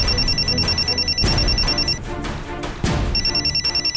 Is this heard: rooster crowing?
no